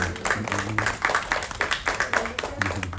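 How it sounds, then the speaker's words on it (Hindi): A group of people clapping their hands in uneven bursts, close and fairly loud, with voices talking over and around the claps. "ताली बजाओ"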